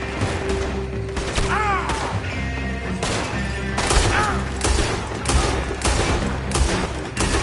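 Gunfire rattles through a Red Dead Redemption 2 shootout, with dense bursts of shots, crashes and thuds piling up continuously over game music and shouted voices.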